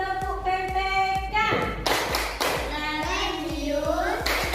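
A class of schoolchildren performs the PPK clap chant during a primary-school lesson, claps landing in a brisk, even rhythm close by, with voices chanting and talking over them.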